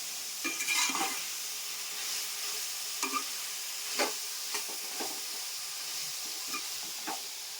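Pieces of fish curry fry in hot oil, a steady soft sizzle and hiss with occasional light scraping taps of a spoon stirring, fairly quiet and without voices.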